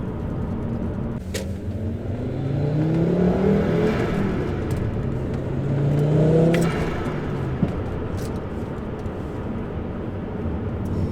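Volvo 850 Turbo with a five-cylinder engine, heard from inside while driving on a road: a steady engine drone rises and falls twice as the car accelerates and shifts, with road noise underneath and no talking.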